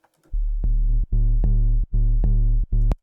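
A heavily distorted, buzzy sub bass synth plays a series of sustained low notes with short gaps between them, loud and alone.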